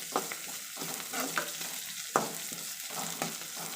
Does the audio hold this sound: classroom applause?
no